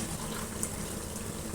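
Chickpea cooking water poured into a glass for measuring, a steady close splashing stream running without a break.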